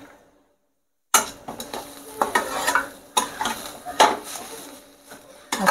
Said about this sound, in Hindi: अच्छे से हम इसे मिक्स कर लेंगे।